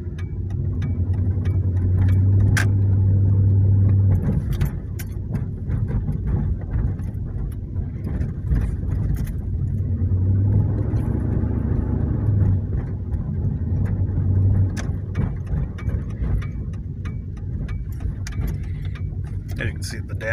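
A 1998 Dodge Durango on a test drive with low power on takeoff and tight steering gives a steady low engine and road rumble from inside the cab, with small rattles and clicks throughout.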